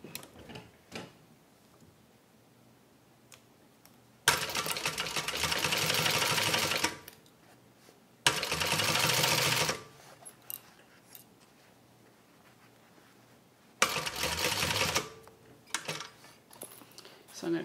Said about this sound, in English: And then I'm going to stitch right over that.